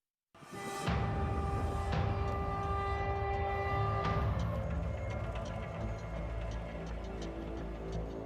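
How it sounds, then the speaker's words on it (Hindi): A train roars past on the tracks, loud and close, with a horn blast near the start and a continuous clattering rumble of wheels. "रेलवे ट्रैक पर धड़धड़ाती हुई ट्रेन तूफानी रफ्तार से दौड़ती चली आ रही है"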